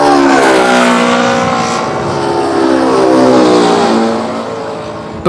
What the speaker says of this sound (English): As the plane flies away, the sound waves stretch out and the frequency and pitch change again.